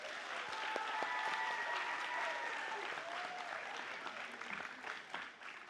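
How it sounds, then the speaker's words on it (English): Round of applause for student candidates at a school live-stream event, fairly quiet and distant, with a few voices mixed in as the clapping slowly tapers. "I do want to give all of our candidates another big round of applause."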